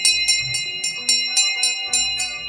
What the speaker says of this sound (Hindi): रात के 12:30 बजे स्कूल की एक प्राचीन घंटी बज उठती